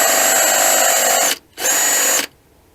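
A power drill fitted with a paddle bit whines loudly for over a second, pauses briefly, then spins up again for a shorter second burst before stopping.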